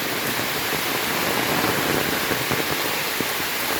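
Torrential rain falls over a waterlogged Konkan village, a constant broadband rush with occasional sharper drop hits, loud and even throughout, no speech.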